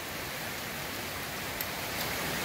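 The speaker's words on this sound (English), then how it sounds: "After the rains, we think this is Ivy Creek." Swollen Ivy Creek rushing after heavy rains along the Appalachian Trail in Virginia, a steady broadband wash of flowing water that fills the whole clip at a constant, fairly close level with no voices.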